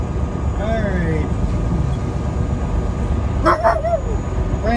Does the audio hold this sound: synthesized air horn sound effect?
no